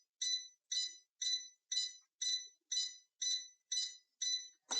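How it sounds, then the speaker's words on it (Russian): A 150 W electronic load device beeps in a warning series of ten evenly spaced, sharp, high-pitched electronic pips, clear and close in near silence, and a brief knock follows. "С вот этим будьте аккуратны, потому что у нас прибор пищит"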